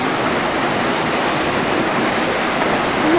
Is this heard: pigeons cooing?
no